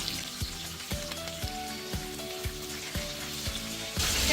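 Fish pieces sizzle steadily in hot oil in a pan, with a series of soft regular knocks and scrapes as the pieces are turned over, ending in a louder burst of frying.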